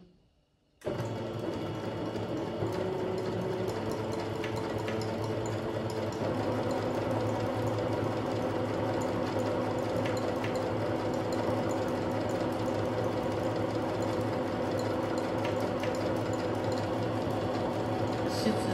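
A Singer Curvy sewing machine runs a steady zigzag stitch, its motor whirring and needle clattering continuously at close range for the whole stretch, with no one talking.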